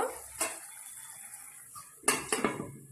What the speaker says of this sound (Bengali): এইবার ঢাকনা দিয়ে দেব।